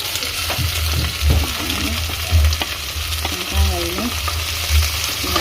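Onion and prawns fry for pulao in a pan, a loud, continuous close sizzle with periodic stirring scrapes and low thumps of the spoon against the pan.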